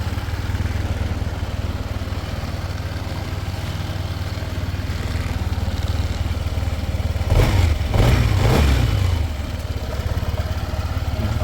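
A Honda ADV 160 scooter idles on its center stand with a steady, low vibrating hum, the engine note briefly swelling louder for a moment partway through before settling back to a constant idle.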